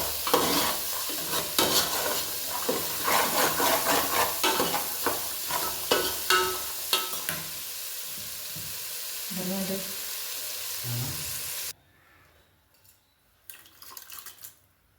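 Vegetable curry sizzles and is stirred in a pan with scraping, clattering strokes, fading to quieter stirring before a brief pause and a last few scrapes.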